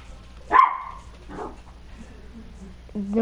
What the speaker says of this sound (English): Ignore my dog barking in the background.